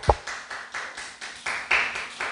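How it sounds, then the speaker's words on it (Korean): Church congregation clapping together in a steady rhythm, about nine or ten even claps, loud and close, with no talk over it. "우리 박수 한번 칩니다."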